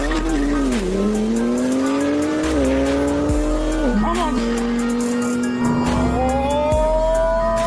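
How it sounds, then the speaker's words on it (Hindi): A BMW M3 and a Ferrari SF90 race, with engines revving hard through repeated rising gear pulls and shift dips, plus tire squeal, loud and close throughout. "ये रेस होने वाली BMW M3 versus Ferrari SF90"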